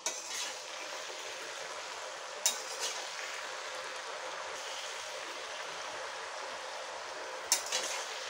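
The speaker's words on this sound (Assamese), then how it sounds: "আৰু গোটেইখিনি বগৰী দিয়া হোৱাৰ পিছত এতিয়া বগৰীখিনি লৰাই দিম।" Jujubes are stirred in a pan for a sweet pickle. A soft, steady sizzling hiss runs throughout, with two brief scraping clinks several seconds apart.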